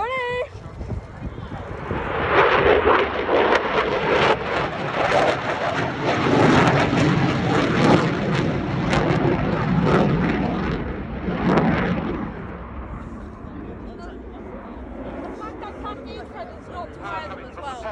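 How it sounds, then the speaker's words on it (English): A jet with a pair of Eurojet EJ200 afterburning turbofans performs aileron rolls at the RAF Cosford airshow 2025, its thunderous roar swelling for about ten seconds before fading, with voices underneath. "Coming from a pair of Eurojet EJ200 afterburning turbofans"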